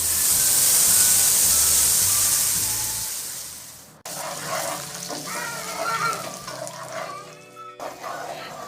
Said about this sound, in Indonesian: Sekarang kita akan tumis bumbu halusnya.